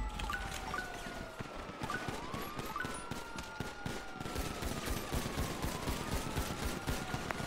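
Dense, continuous gunfire crackles loudly through a city street shootout in a video game, a relentless stream of rapid shots with gliding tones sweeping beneath the barrage.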